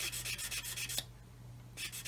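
A 600 grit sanding stick rubs plastic parts of a Meng 1/35 9K37M1 Buk model kit in quick, rhythmic back-and-forth strokes, stops for under a second, then resumes.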